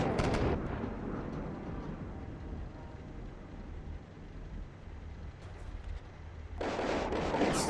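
Artillery shells landing and exploding in a game battle involving T-72B3 tanks and BTR vehicles, heard as heavy rumbling blasts at the start and end with a lower continuous roar between them, loud, with no voices.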